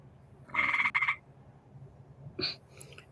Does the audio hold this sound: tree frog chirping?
yes